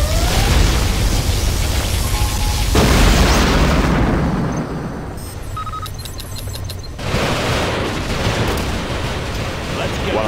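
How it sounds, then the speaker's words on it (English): Particle cannon blast in Command & Conquer Generals Zero Hour, a loud sustained booming roar for nearly three seconds that rolls on over dense game effects, dips briefly, then swells again. "Particle cannon activated."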